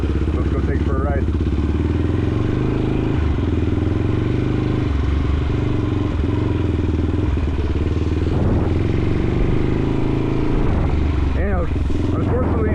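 A Yamaha XT350 motorcycle engine runs steadily up close for the whole stretch, a deep continuous thrumming idle with slight rhythmic variation, while voices talk briefly over it.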